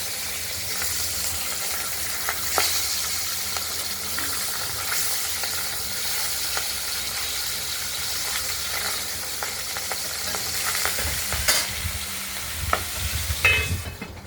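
Bacha fish frying in a pan, a continuous close sizzle and hiss with scattered pops and spatter, plus a few sharp clinks of the pan toward the end.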